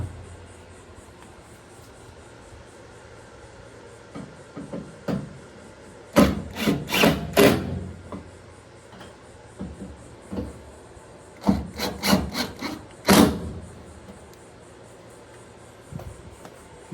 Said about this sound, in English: I'm going to tighten up my 2 screws that I put in.